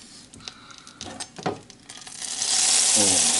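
Butter melting in a pan for a Norwegian salmon omelette, light stirring and small clicks at first, then a steady, rising sizzle that takes over near the end.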